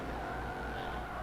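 Race car tires screeching as they lock up under hard braking in a racing video game, a steady squeal over engine drone for about a second.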